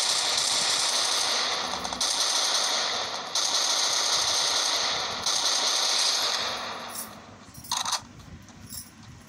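Rapid automatic gunfire from the Free Fire mobile battle game crackles in long, dense bursts with brief pauses between them, loud and close throughout.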